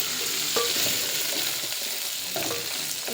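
Coriander frying in oil for a North Karnataka style tempering, a steady dense sizzle close by with a few soft stirring scrapes and light clinks under it.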